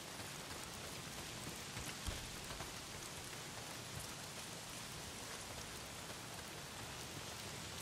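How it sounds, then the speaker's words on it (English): Steady heavy rain pours down in the video game Days Gone, a dense, even hiss with occasional louder drops. No voices are heard. "Not if it's pissing down rain."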